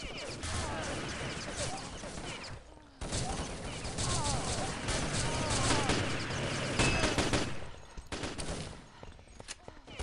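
An Urban Terror match plays out as grenades are thrown and explode amid a busy stream of gunfire, crashes and blasts, loud and dense with brief lulls. A commentator talks underneath.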